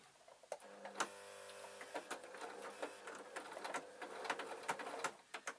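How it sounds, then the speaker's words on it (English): A sewing machine fitted with a zipper foot works slowly through thick layers of a suit pocket, giving faint, irregular ticks and clicks at a close, quiet level. "It's going through quite a lot of fabric, so allow your machine to take its time"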